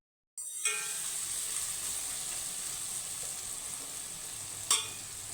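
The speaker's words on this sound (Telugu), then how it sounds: "పచ్చివాసన పోయేంత వరకు కలుపుకుందాము." Mutton boti curry masala sizzles in a hot pan as it is stirred, a close, steady frying hiss that starts abruptly, with a brief scrape of the spoon near the end.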